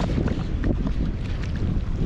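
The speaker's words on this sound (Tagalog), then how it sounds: "So medyo mahangin dito sa ano, mahangin dito sa may dagat." Strong sea wind buffets the microphone in low, rumbling gusts at the shore at low tide, with faint open-air surroundings behind it.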